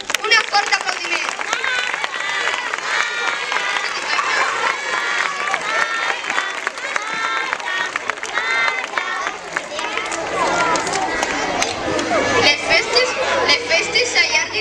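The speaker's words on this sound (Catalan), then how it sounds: "Un fort aplaudiment!" A festival crowd claps and cheers for two local women being honoured, the loud, sustained applause mixed with chatter and shouts, then thinning slightly near the end while voices continue.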